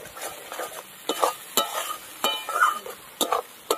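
Chicken kosha masala fried in a pan with spices, stirred in quick scraping strokes over a soft sizzle, the utensil knocking against the pan several times in an uneven rhythm, close and moderately loud.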